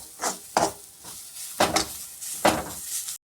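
Chicken for a home-style chicken gravy frying in a pan, with a steady sizzle and several scraping, clattering stirs at an even rhythm, close and fairly loud, no talking.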